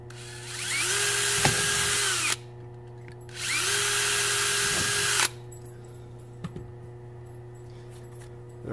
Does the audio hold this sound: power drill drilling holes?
yes